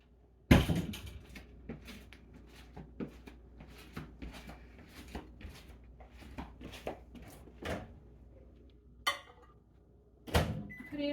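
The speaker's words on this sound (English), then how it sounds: "get a plate out and stick it in the microwave and get it hot" A plate goes into a kitchen microwave oven amid a series of clunks, taps and knocks, with a sharp bang at the start, scattered handling sounds through the middle and a door-like thump near the end.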